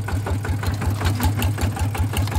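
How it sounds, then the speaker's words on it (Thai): A walking tractor's engine runs in first gear, a loud, close, rapid steady chugging with regular knocking pulses and mechanical rattle, heard alone. "ตัวนี้คือผมสตาร์ทเครื่องเขาเกียร์1ไว้เรียบร้อยแล้ว"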